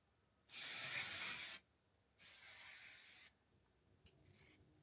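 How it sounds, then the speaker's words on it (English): Two steady hissing bursts from an aerosol spray can, each about a second long, separated by a short pause, close and clear, followed by faint rustling. "I'm gonna spray my hair one more time with something else I bought"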